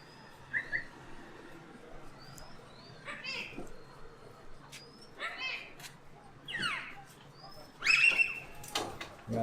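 Highflyer pigeons in a loft in Kathmandu, Nepal, giving faint scattered calls and brief rustles amid a busy outdoor background while a person talks nearby.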